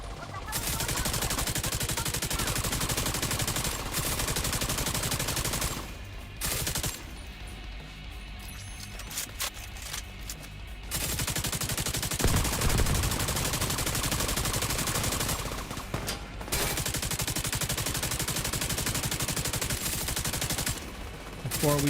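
A fast-reloading light machine gun in a shooter game fires in long sustained bursts, dense rattling automatic fire with brief pauses between strings, loud and close throughout.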